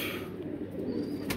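Pigeons coo in a low, soft murmur close by, a steady throaty rumble with a faint flutter near the end.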